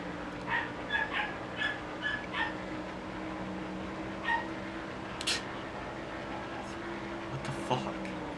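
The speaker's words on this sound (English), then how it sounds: "I'm waiting for my dog to bark again." A pet dog barking in short repeated yips and whimpers in a room, about a dozen sharp barks in bursts over a faint steady hum, fairly close and moderately loud.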